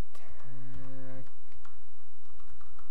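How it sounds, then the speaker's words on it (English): Computer keyboard keys pressed quickly and repeatedly while playing The Crow's Eye demo, a close clatter of clicks alongside a brief sustained tonal hum early on. "I'm hitting all of the buttons on the keyboard."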